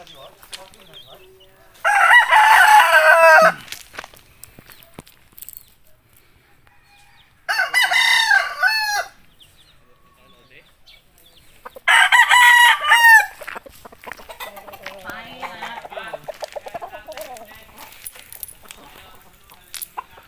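Three loud crows from backyard gamefowl roosters ring out, each lasting over a second, separated by pauses, with softer clucking and rustling filling the quieter stretches.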